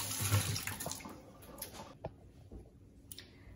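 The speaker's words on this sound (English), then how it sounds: "I'm going to go and wash my hands" Tap water runs into a sink during handwashing, a faint splashing stream that fades partway through, leaving a few small drips and clinks.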